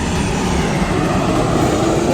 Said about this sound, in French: il y a les avions qui passent juste au-dessus